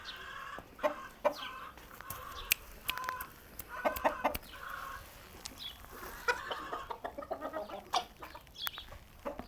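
Roosters crow and cluck in bursts, several calls overlapping at close range with short pauses between them, no voices.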